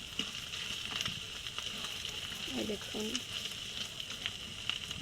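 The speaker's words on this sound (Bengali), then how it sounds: "ওই জন্য আমি একটু লাল লাল করে ভেজে নেব।" A duck egg fries in a pan with a soft, steady sizzle, faint and close, while a person speaks briefly over it.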